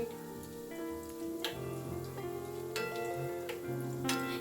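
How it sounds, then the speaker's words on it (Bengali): Vegetable chops frying slowly in oil, soft steady sizzle with scattered ticking pops and crackles over a low humming background, no talk. "এইভাবে আস্তে আস্তে ভেজে নেবেন।"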